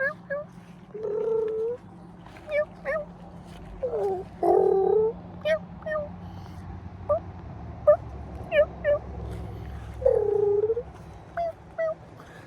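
Feeding wild turkey hens purr softly and give short one- and two-note yelps, fairly close, in brief calls spaced irregularly over a low background.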